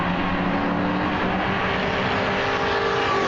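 MG race cars, including an MGF, run at racing speed around The Bend Motorsport Park circuit. Their engines make a steady, dense roar that holds throughout without a break.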